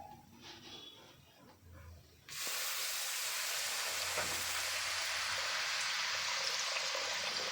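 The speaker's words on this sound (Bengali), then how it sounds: "এরপরে জল ঢেলে দিবে।" Water is poured into a pot of Kolkata-style dum biryani masala spiced with Kashmiri chili powder. After a quiet start, a loud, steady rushing hiss begins and continues to the end.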